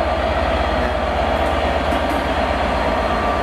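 A train passes through Cardiff station with a loud, steady, continuous rumble and rail noise close by, without any pauses or talking.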